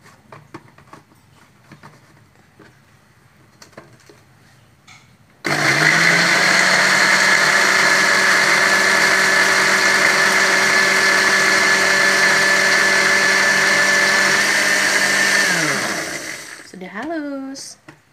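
A blender grinds spice paste with a little water for fish acar, roaring loud and steady for about ten seconds before winding down, after quieter kitchen noises.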